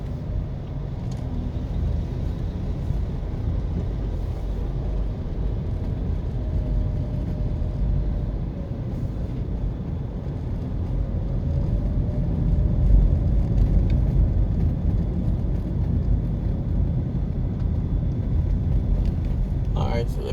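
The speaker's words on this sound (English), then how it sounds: "These trucks are collecting the dirt." Dump trucks hauling away dirt from a lot being cleared at a construction site in New Kingston give off a steady, continuous low engine rumble that swells slightly midway, with faint distant traffic.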